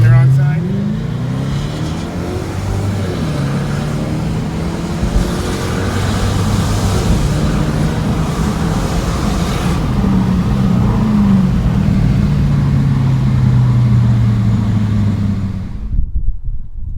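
A 2005 JDM Toyota Crown Majesta V8 on air ride drives along on a test drive, a steady engine hum with a shifting drone, heard from inside the car with people talking.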